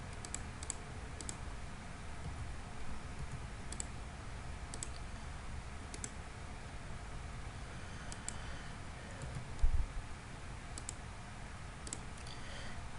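Sparse, light mouse clicks in CAD software, scattered single and double clicks over a quiet background hum, with one louder thump near the end; no speech.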